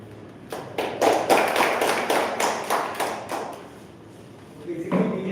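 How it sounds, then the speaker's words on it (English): An audience at a Toastmasters club meeting claps for a speaker coming to the stage, a few seconds of moderately loud, fairly quick applause that fades out, followed by a short burst of sound. "we have a ritual to clap whenever someone comes to the stage or leaves the stage"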